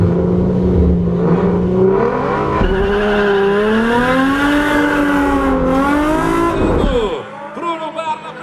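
Turbo and naturally aspirated Chevette race cars launching in a drag race, engines revving loud and rising in pitch through the gears with tire squeal, then cutting off abruptly near the end.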